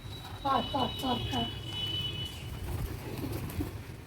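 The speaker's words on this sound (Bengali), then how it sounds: "কি করছে দেখো পায়রাগুলো" Pigeons at a house door waiting for food give a short run of throaty coos up close, then quieter rustling and a faint tone, with a person speaking briefly.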